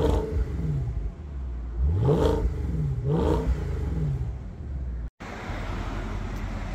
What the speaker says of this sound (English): let me just cut to a really quick clip of this car giving a couple light revs